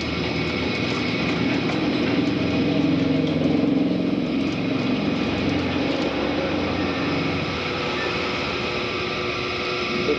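An electric potter's wheel driven by a foot pedal runs with a continuous, fairly loud motor drone that stays nearly steady for the whole stretch, with no voices.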